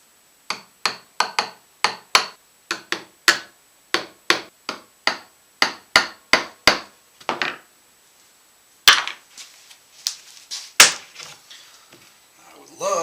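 A hammer taps lightly on a wooden guitar neck in a quick series of sharp, evenly spaced knocks, close and distinct, then after a brief pause a few louder, less regular taps follow.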